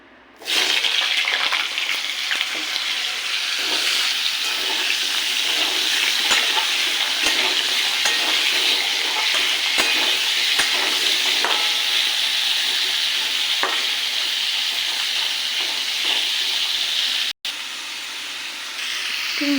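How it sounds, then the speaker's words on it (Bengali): Potatoes frying in hot oil, a loud, dense, continuous sizzle that starts abruptly and holds steady, broken by one brief cut near the end, with faint stirring and no voices. "এই তেলটার মধ্যে আলুগুলোকে ভেজে নেব।"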